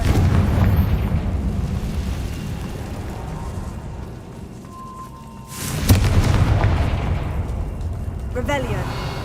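Fire spell Confringo exploding in Hogwarts Legacy, heavy rumbling booms with a sharp blast midway and a lingering roar, mixed with speech.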